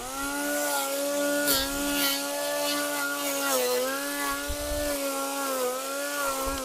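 A cordless grass trimmer with blades cutting grass runs continuously up close, giving a high, steady motor whine that wavers slightly in pitch as it takes on the grass.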